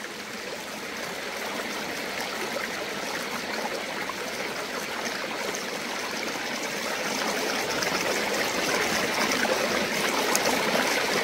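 A river flows near a birch grove, a steady broadband rush of water that holds even and continuous, growing slightly louder toward the end.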